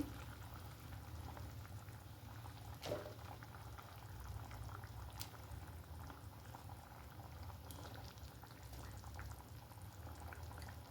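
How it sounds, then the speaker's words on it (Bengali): Fish curry broth for ar fish boils in a pot with a faint, steady bubbling and gentle popping throughout, quiet and unbroken. "আর এবার এটা ফুটবে"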